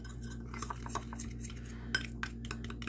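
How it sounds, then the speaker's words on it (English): A utensil stirs cinnamon mug cake batter inside a ceramic mug, producing quick irregular clinks and scrapes, close and fairly quiet, with a faint steady hum underneath. "Give that a good mix."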